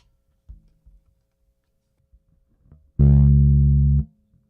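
A bass guitar sounds through a new gold foil pickup. A few soft taps and clicks come first, then a single loud, full low note rings for about a second before being cut off.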